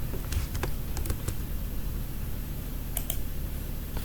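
A computer keyboard clatters as code is typed for a React Router tutorial, with quick irregular clusters of close, crisp key clicks separated by short pauses.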